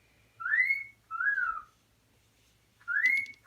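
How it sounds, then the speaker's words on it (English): A pet cockatiel named Herbie gives three rising whistles, the first two back to back and a third after a short pause, clear and fairly close in an otherwise quiet room. "that noise in the background, that is my cockatiel Herbie"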